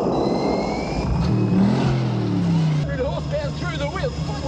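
The V8 engine of the Ford Falcon Interceptor from Mad Max revs loudly and rises in pitch mid-clip, with people talking over it.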